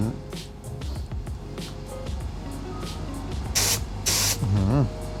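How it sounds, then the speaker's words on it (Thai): Brake fluid sprays out of a failed brake master cylinder as compressed air is pushed through it, producing two loud, sharp hissing bursts near the end, with a voice talking around them. "น้ำมันเบรกกระจุย"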